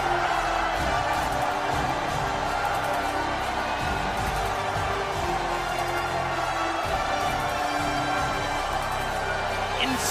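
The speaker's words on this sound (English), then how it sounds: "Insane atmosphere within the esports stadium of Arlington. This crowd is on their feet." A packed crowd roars and cheers continuously at the esports stadium in Arlington during an Overwatch League match between San Francisco Shock and Dallas Fuel, a dense, sustained wash of noise at steady loudness.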